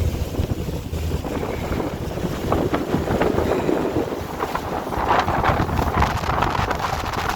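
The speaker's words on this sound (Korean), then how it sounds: "바람 소리 들리시잖아요" Strong wind buffeting the microphone in heavy gusts while squid fishing at Pohang, with rumbling low noise and rushing air over open water, no voices.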